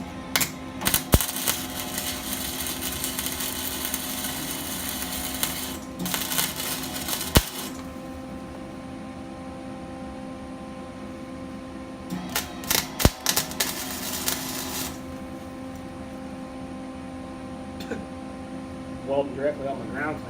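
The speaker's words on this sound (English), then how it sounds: "Welding directly on my ground clamp." Arc welding directly on a ground clamp while building adjustable feet for a fish tank rack, with bursts of harsh crackling sizzle and sharp pops broken by quieter pauses, close by, with a voice speaking in places.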